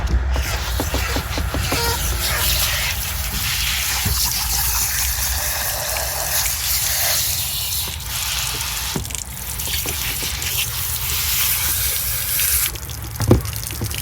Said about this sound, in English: I'll grab the water, start to rinse it down.